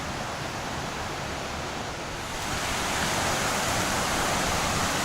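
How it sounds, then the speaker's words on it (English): A roaring creek on the Bartram Trail spills over a waterfall, a steady broad rush of water that swells slightly louder midway, heard alone without talk. "But you can hear the roar of the creek."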